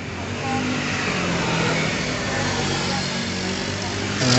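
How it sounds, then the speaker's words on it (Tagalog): Steady traffic noise from cars passing along a roadside, heard while a window-type air conditioner is being cleaned; a continuous, fairly loud broadband rumble that swells slightly near the end. "Nasa tabing kalsada tayo kaya medyo maingay yung mga sasakyan."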